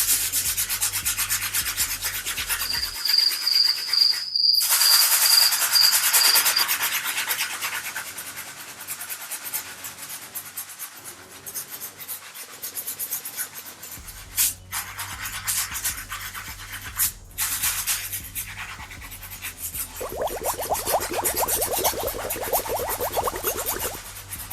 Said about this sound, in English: go ahead and use our cleaning solution. Stiff bristle brush.